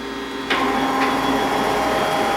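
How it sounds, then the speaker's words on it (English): A machine tool clamps its vice and spins up the spindle, and the cutter moves forward into metal. A sharp clunk is followed by a continuous broadband grinding, whirring cut with a few faint clicks. "Vice is closing, shot pin retracts, spindle's cut on, coming forward, making chips"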